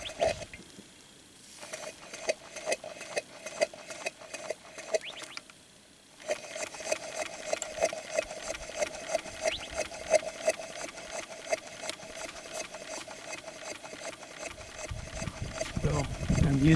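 Twin compound steam engine at 15 psi on wet steam outdoors, a steady fast clatter of strokes running close, briefly dipping twice, with louder broadband noise building near the end.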